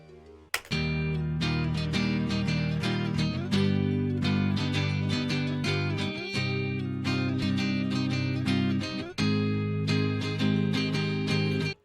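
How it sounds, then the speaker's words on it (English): A sample-kit guitar loop of quick plucked notes repeats steadily in a bright, busy pattern at moderate volume, playing alone without any talking until it stops abruptly. "I found this guitar loop"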